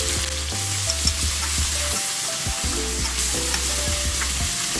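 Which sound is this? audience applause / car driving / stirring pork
stirring pork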